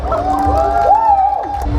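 An audience at an anime fan festival cheers and whoops loudly during a cosplay contest, one rising whoop standing out above the dense crowd noise, close and full.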